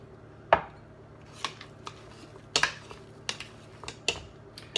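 Boiled potatoes being mashed with milk, salt and nutmeg, heard as a series of sharp, close knocks and thuds of the masher hitting the pot at irregular intervals over a quiet low hum.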